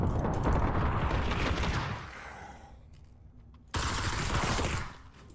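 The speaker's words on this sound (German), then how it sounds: "Ihr wisst schon, dass ihr eure Munition verballert." Gunfire in the zombie mode of the video game PUBG: Playerunknown's Battlegrounds, a dense burst of rapid shots for about two seconds, a quieter lull, then another loud volley.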